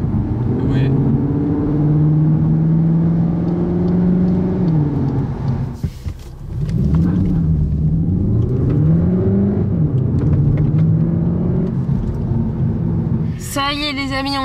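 A car engine drones steadily inside a closed cabin with the windows shut, its low resonant hum rising and falling with the revs and briefly dropping out once, as the car drives toward a race circuit.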